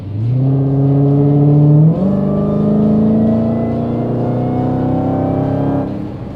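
A 2018 Dodge Challenger SRT Demon accelerates hard, its engine note climbing steadily with a brief dip at a gear change before rising again, loud and close with no talking.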